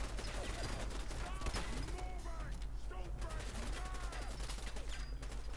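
Automated turret gunfire in the Fallout 4 video game, a steady rattle of rapid shots over a constant low game hum, with scattered mechanical and effect noises running throughout.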